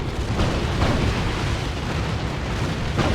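Ork Tank Buster barrage explosions in a Dawn of War 2 battle between Chaos Space Marines and Orks, a loud continuous rumble of booms and blasts layered with dense battle noise.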